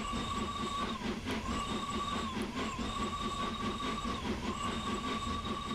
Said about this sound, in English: And then I'll blow this whistle.